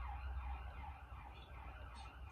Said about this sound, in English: We'll wait for them sirens.